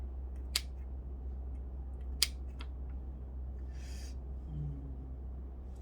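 Two crisp scissor snips cut through plant roots during repotting, sharp and close against a quiet, low background hum.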